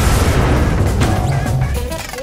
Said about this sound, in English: Brace yourself for an explosion!